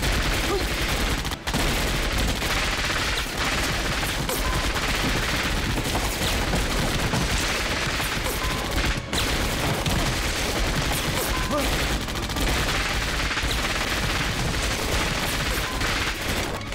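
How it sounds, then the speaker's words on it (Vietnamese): Dense gunfire and explosions in a Chinese anti-Japanese war action series, with rapid bursts of shots and booms running continuously and loudly throughout. "Tiếng súng và tiếng nổ chắc chắn kinh động bọn Nhật ở đầu thuyền."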